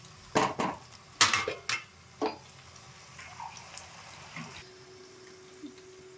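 Metal lid set onto a cooking pot of tomato and drumstick curry, a few sharp clanks and rattles close by in the first half, then quiet simmering bubbles.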